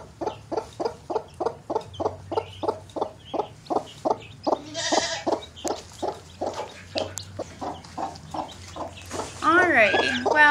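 A broody hen clucks in a steady, rapid series of close, soft repeated clucks, joined near the end by higher peeping from baby chicks.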